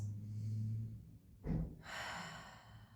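Slow deep breathing during a yoga stretch, a long soft inhale-exhale followed by a sharper audible breath and another sustained breath, close and fairly quiet with no talking.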